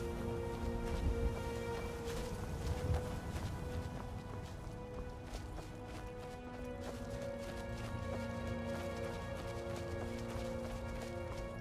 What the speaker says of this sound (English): Steal the horses. My horses now.